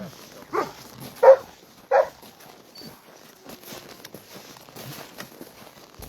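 Sled dogs at a checkpoint of the Copper Basin 300 race in the early morning, a few short, sharp barks near the start, then quieter shuffling and faint rustling.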